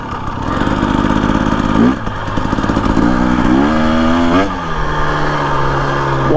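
A 2025 Husqvarna TE 250 motorcycle fitted with an FMF exhaust and TSP tune, loud and close, engine revving and shifting through rising pitch sweeps with a brief dip before climbing again.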